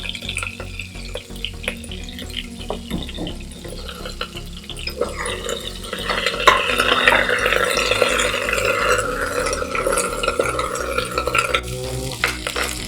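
Meat sizzles and fries with garlic and ginger in a pot, with scraping and stirring throughout that grows louder and busier halfway through.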